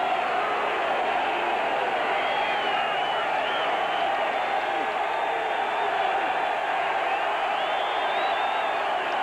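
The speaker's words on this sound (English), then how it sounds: "Crowd getting into it." Stadium crowd at a 1985 UCLA versus Tennessee college football game, a steady, dense roar of cheering and chatter filling the whole stretch, with a commentator's voice running over it.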